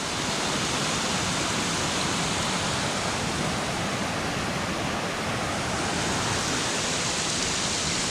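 A waterfall in a gorge near Ithaca gives off a steady, dense rush of falling water, loud and unbroken throughout, with no talk.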